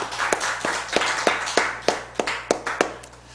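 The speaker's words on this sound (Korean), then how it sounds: "applause to God" A Sunday worship congregation applauds in a dense wash of clapping, with sharper claps standing out at a regular beat, fairly close and moderately loud, with no talking.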